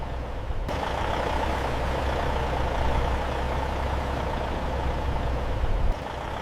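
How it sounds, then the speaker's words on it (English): Armored truck engine at a currency facility, a steady low rumble idling without a break, close and moderately loud with no talk over it. "The currency is loaded into armored trucks under guard supervision."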